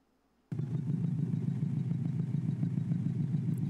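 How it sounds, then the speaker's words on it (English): Mercedes CLS 63 AMG S V8 engine idling, a steady low rumble that kicks in abruptly after a brief quiet moment and holds even and close for several seconds. "I know y'all hear that idle."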